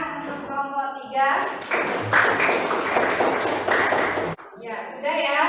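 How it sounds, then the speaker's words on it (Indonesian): Classroom applause for a student group after a presentation, a burst of many hands clapping for about three seconds, fairly loud and close, with a teacher's voice speaking before and after. "beri tepuk tangan untuk kelompok 3"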